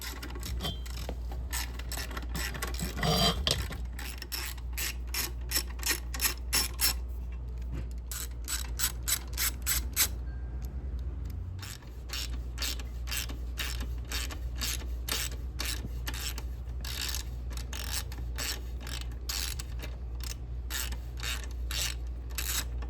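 A ratchet works bolts loose from the suspension of a Yamaha Banshee, making long runs of quick, close clicking strokes over a low background hum. The clicking pauses briefly partway through.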